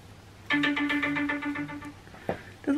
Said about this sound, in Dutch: Dat was mijn wekker.